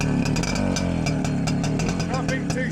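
An old two-stroke motorcycle engine runs just after a kick start, a loud, close, buzzing and crackling idle with a rapid uneven pulse and slight revs, while people talk over it.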